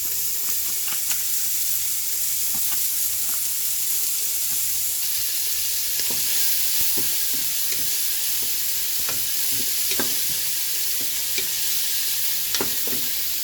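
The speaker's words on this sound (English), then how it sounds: "Once it's smoking hot, add the pancetta and get it really nice and brown." Smoked pancetta fries in a smoking-hot oiled pan, giving a dense, steady, close sizzle with scattered crackles and pops throughout and no speech.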